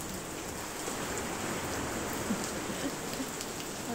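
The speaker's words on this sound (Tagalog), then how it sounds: "Kakaumpisa pa lang maghagis, inabot na ng ulan." Steady rain falling on an open shore during casting for fish, a dense even hiss with a few louder drops, no voices.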